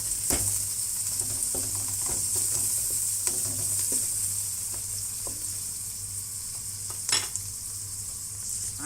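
Onions and carrots get stirred in a frying pan, a soft steady sizzle broken by sharp intermittent scrapes and clicks of the utensil against the pan.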